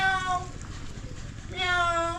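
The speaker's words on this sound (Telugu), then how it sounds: "అరే క్యాట్స్, మియావ్ మియావ్ పిల్లి" A white cat in Ooty meows twice, close and clear: a drawn-out cry at the start, then a second after a short pause. Soft background noise fills the gap.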